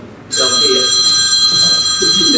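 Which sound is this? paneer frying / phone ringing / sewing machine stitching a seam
phone ringing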